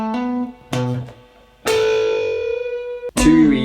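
A distorted electric guitar plays sustained notes, with one note bent and held ringing before a final loud strike.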